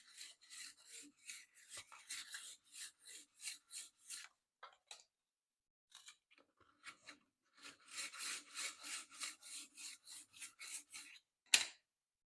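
A woodworking burr tool scrapes repeatedly along a metal edge, dry rhythmic strokes in two quick bursts separated by a lull with a few light taps, ending on a sharp knock, close and quiet with no speech.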